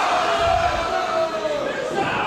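A crowd at a PWA wrestling event shouts and roars in a loud, continuous wall of noise, with a voice calling out over it.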